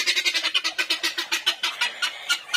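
Chickens and roosters call loudly and close by in a rapid, rhythmic run of clucking pulses that keeps going without a break.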